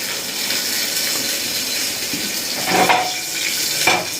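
Potatoes, cauliflower and capsicum with green chilli sizzle steadily in a hot pan, a continuous close, bright frying hiss with a couple of brief louder spurts near the end.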